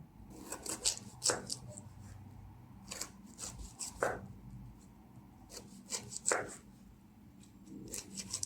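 Thin slices of cabbage being cut with a knife for coleslaw, a series of soft crisp cuts and rubbing strokes on a board in uneven bursts, close and fairly quiet.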